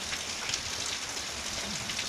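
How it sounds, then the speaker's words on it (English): Heavy rain pouring steadily on outdoor surfaces, a dense continuous hiss with no talking. "So this rain ain't letting up a bit."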